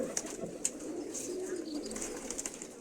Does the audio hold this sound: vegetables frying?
no